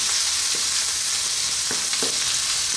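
Onion going into ginger already frying in a pan, giving a steady close sizzle with a few soft stirring scrapes and clicks, no voices.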